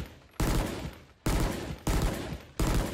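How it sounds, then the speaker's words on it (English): Four heavy, booming gunshots from a fully automatic rifle in Valorant, fired singly at roughly even intervals, each with a sharp attack and a long ringing tail, loud and close with no talking. "Basically, it's a fully automatic rifle that can use its alternate fire and then has a burst"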